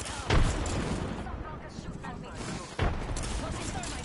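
Two heavy booms of grenades and gunfire in a multiplayer shooter video game, spaced a couple of seconds apart over dense battle noise, with voices talking during the action.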